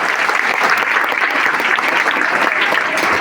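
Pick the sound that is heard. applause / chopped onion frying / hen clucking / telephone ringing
applause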